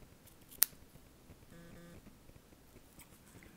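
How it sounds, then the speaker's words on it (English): Scissors trim the paper edges of a handmade card-stock box in a quiet papercraft setting, giving one sharp, close snip followed by a softer cutting rasp. "I'm going to snip off the edges"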